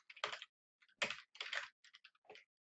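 Several quick bursts of typing on a computer keyboard, with short clusters of close clicks separated by brief pauses, quiet and with no talking.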